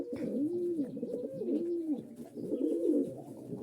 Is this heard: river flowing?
no